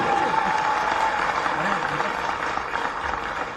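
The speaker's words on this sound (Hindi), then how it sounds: "जोरदार ताली बजाए इसकी आवाज के लिए।" Loud, dense applause from an audience at a state-level youth festival closing ceremony in Bhopal, steady throughout with some crowd noise mixed in.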